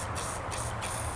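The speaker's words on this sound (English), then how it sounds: "So you just spray it in there" Three short bursts of aerosol lubricant spray hiss in quick succession into the recoil starter of outdoor power equipment, close up and fairly quiet, with no talking.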